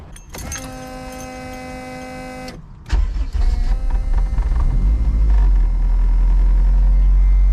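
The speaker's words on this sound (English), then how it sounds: "turn the car on real quick." A Honda CRX with all-wheel drive and a noisy fuel pump: a steady electrical whine and hum, then the engine cranks and catches about three seconds in, settling into a loud, close, deep rumbling idle with no talk.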